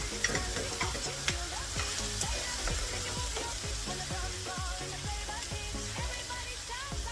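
Vegetables, including soft corn, stir-fry in a hot pan for fried rice, with a steady close sizzle broken by quick, regular scraping and tossing strokes of a spatula throughout.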